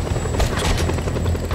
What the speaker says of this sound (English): A chopper! Seems my ride's here!